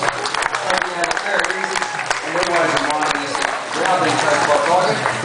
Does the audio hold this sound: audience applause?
yes